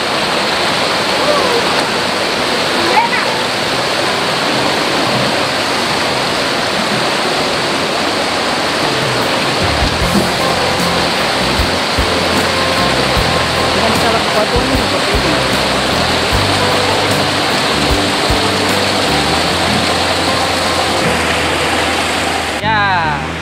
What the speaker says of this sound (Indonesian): Ini saya sudah sampai di air terjun pertama